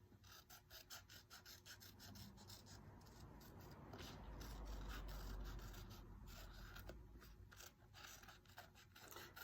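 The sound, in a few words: scissors cutting out a paper pattern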